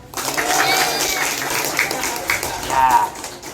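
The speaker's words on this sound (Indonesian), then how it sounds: "Tepuk tangan" A school class of children applauding, a brief dense round of clapping swelling and fading over a few seconds, close and fairly loud.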